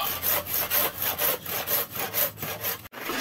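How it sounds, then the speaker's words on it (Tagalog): Saw cutting through a hard animal horn, a steady back-and-forth rasp with strokes about every third of a second, close and loud throughout, stopping abruptly near the end. "Kalmado lang tayo habang naglalagari."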